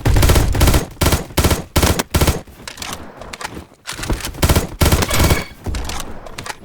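Rapid automatic fire from a Škorpion vz.61 machine pistol in the video game Bad Business, loud close bursts of rattling shots broken by short pauses, no talking.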